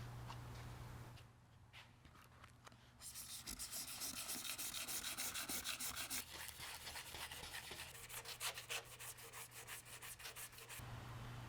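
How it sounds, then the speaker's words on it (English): Hand sanding of a van's body panel, a steady scratchy rubbing of abrasive over the surface in quick back-and-forth strokes, close and fairly loud, with a brief lighter patch early on and no talk. "let's go ahead and sand the body of the van."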